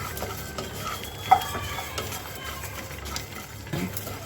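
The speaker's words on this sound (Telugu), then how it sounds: "ఒక 2 స్పూన్లు ధనియాలు, వీటిని లైట్గా వేడి చేసుకున్నాం" Coriander seeds dry-roast in a pan, making a soft, steady rustle with faint scraping and a few light clicks of a spoon against metal, close and quiet, with no talking.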